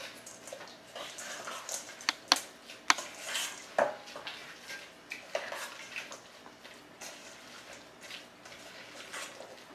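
Dip ingredients with bacon being mixed together in a bowl, with soft wet stirring and scraping plus scattered clinks of utensil against the bowl, fairly quiet and close, no talking.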